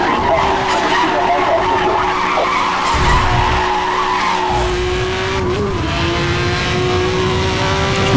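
A car accelerates in the Need for Speed Hot Pursuit racing game with a steady, loud engine drone and tire skid noise throughout, while pursued by police.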